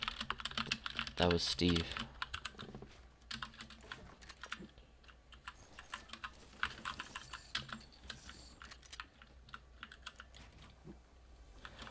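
Rapid, clattering computer keyboard typing runs throughout in bursts, close and fairly loud, while a person talks over it.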